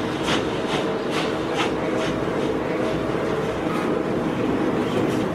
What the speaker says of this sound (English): Please remain seated while the train is moving